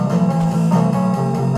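A recorded rhythm guitar track from a rock song plays back loud and steady, a sustained strummed tone that runs without a break for its short length.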